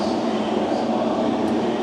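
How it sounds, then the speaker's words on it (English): Formula 1 cars pulling out of the pit lane at the Red Bull Ring at the start of qualifying at the 2025 Austrian Grand Prix, heard as a steady, loud engine roar with no clear pauses. "First few cars coming out."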